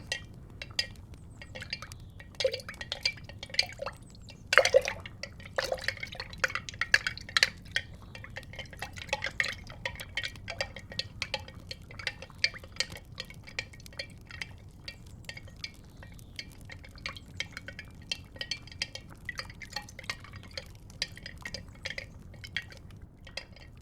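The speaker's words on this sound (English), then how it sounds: "And now before we add the last ingredient, I'm going to give it a very light stir." A liquid potion is lightly stirred in a vessel during an ASMR potion-making roleplay, giving close, quiet, steady clinks, ticks and soft liquid swishes that run for about twenty seconds with no voice.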